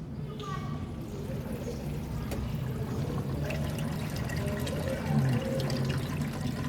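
Water flows and pours steadily out of an LG Inverter WT-1385TH coin-operated washing machine during a repair check, a continuous close splashing and trickling wash with people talking over it.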